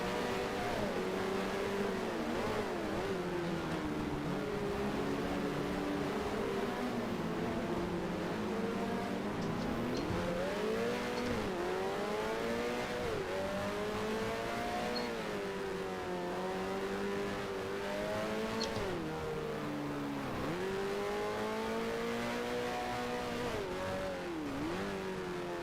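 Racing car engines in the video game F1 Challenge, in a 1975 season career race, whine and rev continuously, pitch rising and dropping with gear changes, loud and alone throughout.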